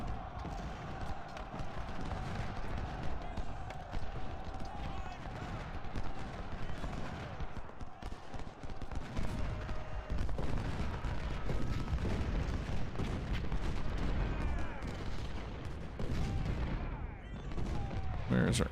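Canister volleys from Civil War artillery in Ultimate General: Civil War at the Battle of Chickamauga, heard as a continuous clatter of booms and musketry crackle throughout, with a sustained tonal note underneath and no pauses.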